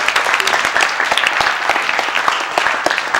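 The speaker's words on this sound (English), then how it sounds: "Give him a hand clap" A crowd at a live church gathering claps together, a dense burst of hand claps that keeps going at an even level from start to finish.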